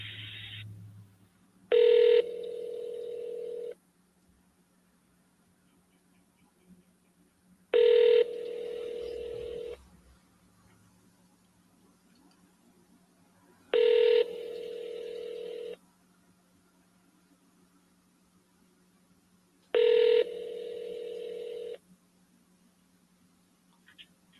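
Electronic telephone tones on a call line: four identical short bursts of beeping arrive at even intervals about six seconds apart, clear and isolated, with near silence between them.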